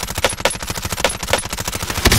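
Rapid automatic fire from an MP5 submachine gun in a shooter video game, a steady fast stream of loud close shots running throughout with a few sharper bursts mixed in.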